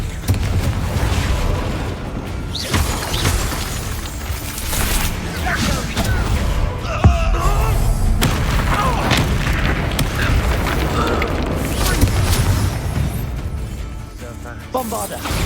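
Spell explosions from Bombarda and Confringo blast through a Hogwarts Legacy battle, with booming bursts and crashing debris forming a loud, continuous chaotic din; shouted spell names and voices break in over the fighting.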